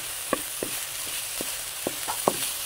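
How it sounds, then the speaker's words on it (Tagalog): Pork neck sautéing in a pan for Bicol express gives a steady sizzle, broken by several sharp scrapes and clacks of a spatula stirring, up close with no talk. "Gisahin lang natin mabuti."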